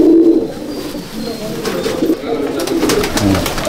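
A male Kalduma pigeon, a black-tailed fancy breed, coos in a loft, with low repeated rolling coos up close amid rustling and other birds in the background.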